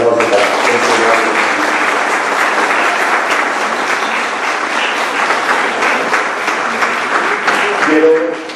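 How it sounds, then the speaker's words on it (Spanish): Sustained loud applause from an audience at a sports forum in Boyacá, honoring competing athletes; dense, steady clapping fills the whole stretch with some voices mixed in. "Quisiera por favor un fuerte aplauso para este gran."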